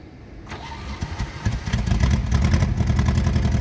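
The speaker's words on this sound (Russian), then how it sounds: "сейчас как-то легче заводится, чем в прошлый раз" A Soviet Zaporozhets "Gorbaty" car, barely run in ten years, cranks briefly and catches, its small engine settling into a loud, rough, pulsing idle close by.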